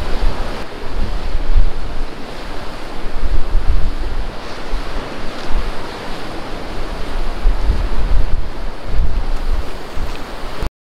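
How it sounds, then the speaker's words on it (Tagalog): Strong wind buffets the microphone on a beach, a dense, steady roar with gusty swells and surf mixed in, loud and unbroken with no talking. "Ang mahangin."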